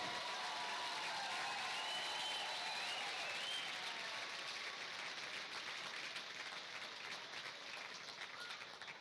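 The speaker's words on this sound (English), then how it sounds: "Let's hear it for Lone Star Baseball." Stadium crowd at a baseball championship game applauding the second-place team, a dense, steady wash of clapping and cheering that holds for several seconds and gradually eases, heard at a distance with no voice over it.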